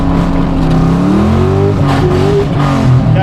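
A Lincoln Aviator fitted with a Mustang GT engine accelerates hard from a standstill, making a loud, close engine roar that rises in pitch, stumbles briefly at a fumbled shift and then keeps building.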